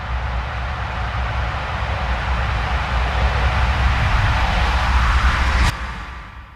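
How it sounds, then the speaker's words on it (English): A build-up sample in an electronic track: a dense wash of noise swells steadily and loudly, then cuts off sharply near the end and trails away, with no voices. "And then a build up, which just sounds like this. It's just a sample."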